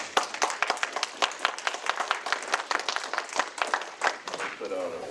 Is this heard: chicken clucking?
no